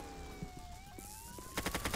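Rapid bursts of gunfire aimed at the player in the video game Roblox, a quick run of sharp shots near the end layered over a rising siren-like tone and game sounds, with no talk.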